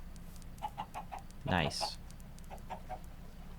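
Video game chickens cluck in short repeated bursts, with a louder squawking flurry in the middle, all heard faintly behind a brief spoken remark.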